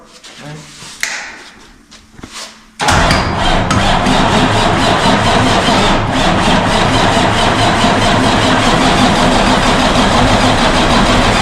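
A 1981 Kenworth W900A truck engine cranks after a few quiet clicks and knocks with voices nearby, then catches and roars into a loud, steady, close idle that continues to the end.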